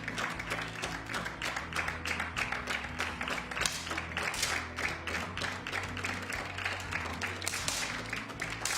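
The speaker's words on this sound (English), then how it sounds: "the applause is louder and louder, so more things to deal with during the finals." Spectators at a 10m air pistol junior team final in Wroclaw, Poland, clap in rapid, dense bursts, a faint, rhythmic pattering applause that keeps on throughout with little speech.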